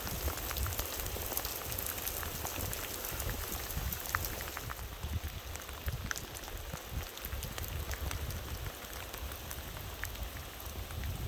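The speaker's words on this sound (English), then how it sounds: "though in the pouring down rain." Heavy rain pouring down at Roan High Bluff in the North Carolina high country, a dense steady hiss of drops pattering on surfaces, constant and close with no talking.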